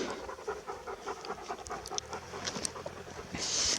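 A dog pants rapidly and steadily close by in a village forest, quick breathy huffs repeating without pause, with some rustling in the background.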